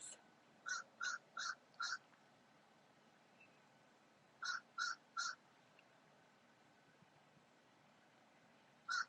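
Distant birds call outdoors, harsh crow-like caws in a quick run of four, then three after a pause and one more at the end, faint over a quiet background hiss.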